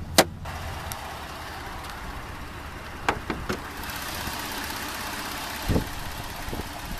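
A 2015 Kia Cadenza's 3.3-liter direct-injection V6 idles with the hood open, a low, even hum with faint ticking, broken by a few sharp clicks and knocks nearby.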